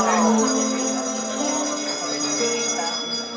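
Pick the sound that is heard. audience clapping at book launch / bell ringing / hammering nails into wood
bell ringing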